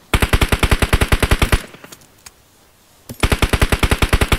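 Automatic gunfire in PUBG Mobile during a tournament match: two long, loud bursts of rapid evenly spaced shots, separated by a brief quieter gap with a few scattered sounds.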